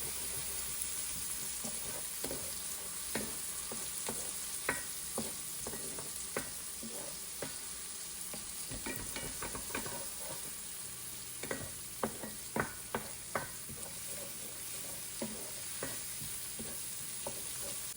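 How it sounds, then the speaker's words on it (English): Shallot and garlic frying in a pan, stirred throughout: a steady soft sizzle with repeated sharp utensil scrapes and taps, a few louder clusters late on, close up with no talk. "we're going to keep this in here for about 2 minutes like this, but you want to keep stirring it so that they don't burn"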